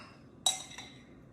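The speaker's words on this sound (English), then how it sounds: "I'm just going to take this other bowl I got out" A bowl is handled in a home kitchen while hummus is being made, giving one sharp, bright clink followed by a fainter second ring, close and brief against a quiet background.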